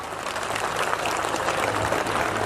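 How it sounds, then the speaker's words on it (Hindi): Steady crowd applause at a political rally, a dense continuous clapping that holds at an even level throughout, with no voices on top. "जोरदार तालियां एक बार"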